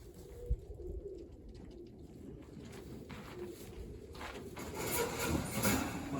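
Birmingham roller pigeons coo softly in a loft, a low, steady murmur of several birds with a faint flutter and shuffle mixed in.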